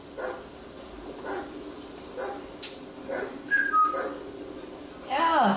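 Whistling from a character in the video game GTA 5, a few short repeated tones under game ambience with a sharper rising whistle near the end.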